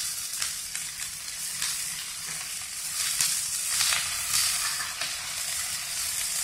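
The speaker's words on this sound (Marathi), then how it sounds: "कांद्याची पात चांगली परतून घ्यायची" Onion greens and green chilies sizzle steadily in hot oil for Khandeshi eggplant bharit, a continuous bright frying hiss with soft stirring scrapes, close and even throughout, no voices.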